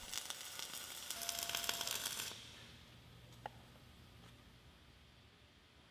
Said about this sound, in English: Start and stop the weld process.